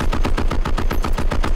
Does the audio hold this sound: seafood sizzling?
no